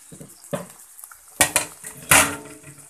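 A metal lid set onto a pot of pakbet vegetables clanks in a few sharp, close knocks and rattles, with softer taps around them.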